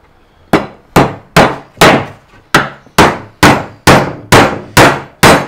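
Claw hammer striking wood hard, ten sharp evenly spaced bangs each ringing briefly, loud and close with no talk, from nail-removal work.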